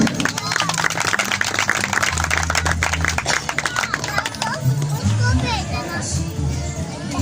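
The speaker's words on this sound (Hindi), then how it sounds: "सो अपने लिए तालियां बजाएं।" A church congregation claps for themselves during a pastor's sermon, a burst of dense, rapid clapping for about three seconds, then speech and murmuring continue in the hall.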